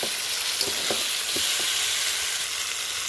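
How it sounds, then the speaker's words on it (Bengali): Tomatoes sauté in a pan for a chickpea and potato ghugni, giving a steady, close sizzle with a few soft stirring scrapes throughout. "এই যে টমেটো দিয়ে সুন্দর মতো দেখুন কষানো হয়ে গেছে আমার।"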